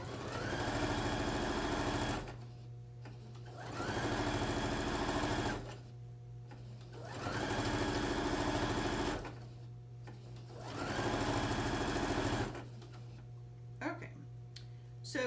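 A sewing machine stitches a pillowcase through two layers of fabric in steady bursts, running, pausing and running again with a close, even mechanical hum and rapid needle rhythm.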